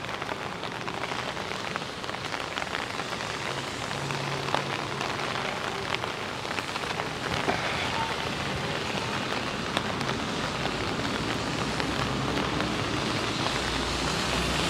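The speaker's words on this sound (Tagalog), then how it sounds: "Hanggang Monday kasi ang ulan." Steady rain falling in Japan during cherry blossom season, an even, continuous patter close by with no voices, holding constant throughout.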